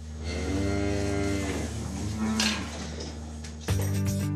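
Vosgienne cows on a farm moo in long, drawn-out calls, several overlapping lows following one another, close and loud, with a fresh nearby moo starting near the end.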